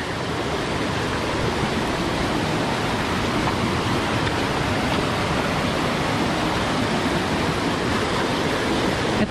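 A river that flows without pause rushes in a loud, unbroken wash of water, steady and close throughout with no voices over it.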